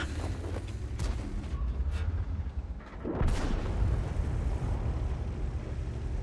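Tank gun fire in World of Tanks from the CS-52 C premium tank: heavy booming shots and explosions in a loud, continuous rumble of battle noise, with a strong blast partway through and no talk.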